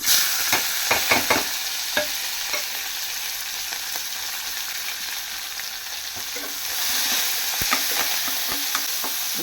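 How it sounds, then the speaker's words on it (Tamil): Coriander leaves sauté with asafoetida in hot oil for leftover-idli upma, making a loud continuous sizzle and crackle, with quick spatula scrapes and taps near the start and a swell of frying noise later. "இப்போது நான் கொத்தமல்லியும் சேர்த்து அப்படியே வதக்குறேன்"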